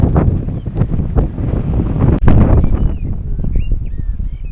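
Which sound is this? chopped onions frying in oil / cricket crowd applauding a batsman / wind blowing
wind blowing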